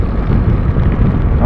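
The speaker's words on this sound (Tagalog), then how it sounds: "Oh, lakas ng hangin." Strong wind buffeting a motorcycle rider in the rain, a loud continuous low roar and rumble pressing on the microphone for the whole stretch.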